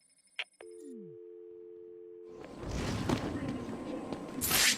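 Telephone in Batman: Return to Arkham City ringing with a steady electronic tone after a few sharp clicks, then joined by a louder noisy din and a bright burst at the end.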